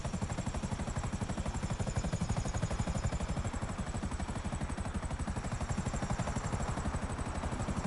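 A helicopter in GTA Online flies with a steady, heavy rotor chop and a rapid even beat under a continuous engine whine, loud and constant throughout, with no talk.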